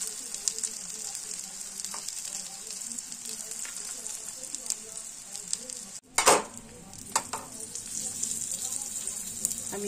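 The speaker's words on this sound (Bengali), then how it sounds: "আমি নিপান তেল দিয়ে ভাজছি।" Vegetable paratha frying in oil in a pan over a lowered gas flame, giving a steady close sizzle with a brief louder crackling burst partway through.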